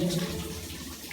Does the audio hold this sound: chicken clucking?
no